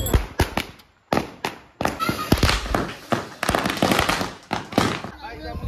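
Firecrackers burst in rapid, loud volleys of sharp cracks during a Ganesh immersion procession in a crowded street, some bursts near and some overlapping, with crowd noise and voices mixed in.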